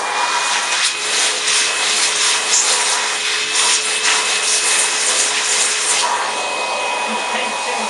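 A 1971 Hoover Senior 6525C upright vacuum cleaner runs with a loud, steady motor whine and airy rush, punctuated by a few rubbing, scraping pulses.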